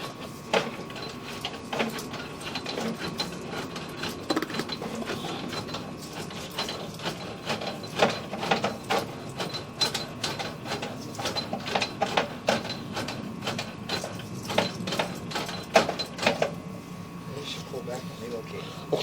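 A drain cleaning machine pushes its cable through a sewer line, giving off irregular clattering, ratcheting mechanical bursts over a low motor drone, heard close.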